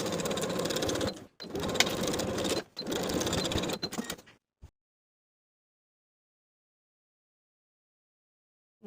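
A sewing machine runs a half-inch seam through a dress lining in three steady motor bursts separated by short stops, close and loud, then falls silent for the second half.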